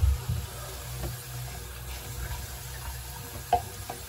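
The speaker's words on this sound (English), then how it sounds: "Water's coming out." Water runs from a bathroom vanity faucet into a sink with a low, steady gush and a few soft clunks.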